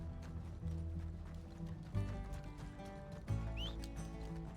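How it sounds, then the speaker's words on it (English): Rapid hoofbeats of a galloping horse in the video game Red Dead Redemption 2, steady and fairly close, with a low rumbling backdrop and a couple of heavier thuds. "I just need my horse to get here."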